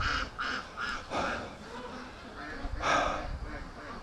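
Muscovy ducks raised free range are let out in the morning, giving a series of nasal quacks and honks in short bursts, close by, mixed with breathy human sounds and brief talk.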